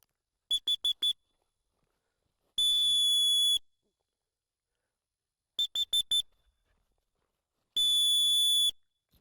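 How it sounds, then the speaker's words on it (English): A sharp, shrill dog training whistle in a pattern: quick triple toots, then one long blast, repeated twice, loud and close with silence between. "stop her with my whistle to sit"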